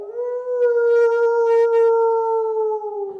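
A person imitates a wolf howl with one long, sustained, steady tone held for about three seconds, loud and close, with no other sound around it.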